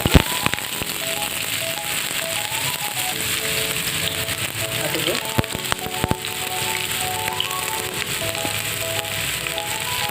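Onions frying in melted oil for an Odia-style pineapple chutney make a dense, continuous crackle and sizzle, loud and close, with scattered sharp pops and no talk.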